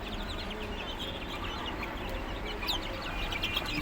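Chickens clucking in a poultry pen, soft scattered clucks and chirps over a steady background hum, fairly faint and with no voices.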